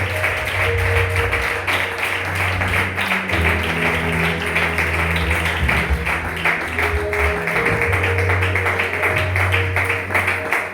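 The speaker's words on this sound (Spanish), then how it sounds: "Fuerte el aplauso para Dios y nuestro hermano hoy con nosotros." A church congregation at a special service claps in a steady, sustained roar, blended with held musical tones and a low bass line playing underneath.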